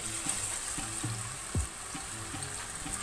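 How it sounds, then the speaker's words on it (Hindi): Okra (bhindi) coated in about two tablespoons of gram flour fries in a pan, giving a steady, soft hiss of sizzling oil with a faint low clatter underneath. "इसको अब हम फ्राई करेंगे"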